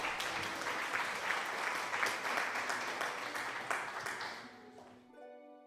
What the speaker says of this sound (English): I'm gonna play an applause for you.